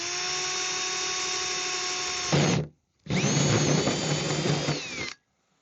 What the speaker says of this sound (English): We're going to drill a hole through it.